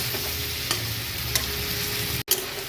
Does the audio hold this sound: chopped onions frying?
yes